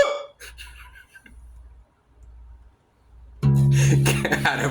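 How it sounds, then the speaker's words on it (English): A hiccup-style vocal sound is set against a rock song played on guitar, with soft breathy sounds before loud, dense music cuts in near the end. "Do the hiccup."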